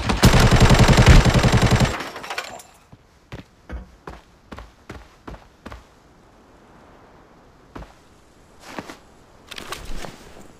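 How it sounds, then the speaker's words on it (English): Gunfire in the video game Arena Breakout: a dense, loud burst of automatic fire for about two seconds, then a string of separate single shots at uneven intervals, some near and some fainter, with no talk. "Someone shoot!"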